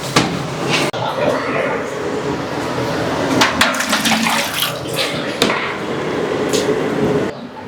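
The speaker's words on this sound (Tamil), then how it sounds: "எவ்வளோ புளி தண்ணி ஊற்றுறோம்" Tamarind water pours steadily in a continuous splashing rush, with a few clanks and knocks of metal cookware breaking through the flow.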